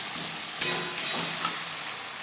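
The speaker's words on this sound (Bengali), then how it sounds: "চার পাঁচ মিনিট হাই টু মিডিয়াম ফ্লেমে ম্যারিনেট করা চিকেন নাড়াচাড়া করে দেবো" Marinated chicken for butter chicken sizzles steadily in refined oil over high to medium flame, with a few louder scraping stirs of a spatula breaking through the constant frying hiss, close up.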